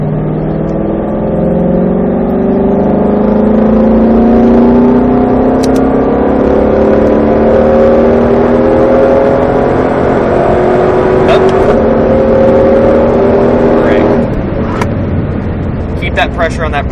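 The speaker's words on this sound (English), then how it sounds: "That's why we'll come back down to 3rd now and get back on throttle." Ford GT500 on a racetrack accelerating in 3rd gear after a downshift, a loud, steady engine roar climbing in pitch over many seconds with a brief dip near the end, while a driving coach talks over it.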